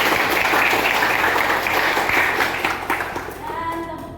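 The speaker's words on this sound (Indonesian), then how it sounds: "Silakan kalian tepuk tangan buat Muzaki." A classroom of students applauds a classmate, a dense burst of clapping that fades in the last second as a voice begins speaking over it.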